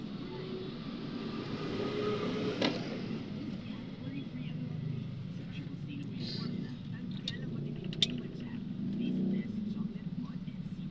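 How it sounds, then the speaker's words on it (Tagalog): Road traffic on Katipunan, a steady low rumble of passing vehicles with occasional engine swells and small clatters, heard alone at a moderate level without talk. "dito po sa Katipunan talaga napaka-traffic"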